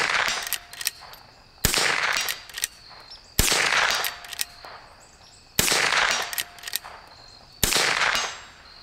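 Five sharp rifle shots from a Henry H001 lever-action fired outdoors at targets about 100 yards off, spaced roughly two seconds apart, each loud crack followed by a short ringing echo and faint background ambience.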